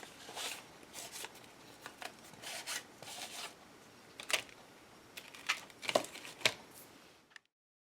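An ink pad is swiped over paper card pages with timber brown and blue ink. Quiet, close dabbing and rubbing strokes come in irregular bursts, and the clip ends in silence.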